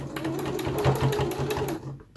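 Close, steady whir of a sewing machine stitching a fabric face mask with the regular presser foot, running continuously for about two seconds before stopping.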